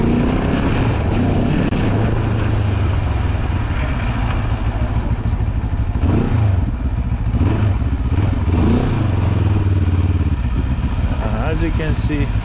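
The exhaust of a Benelli TRK700 motorcycle roars steadily and loudly close by while it is ridden, with its pitch rising and falling as it revs, under wind noise.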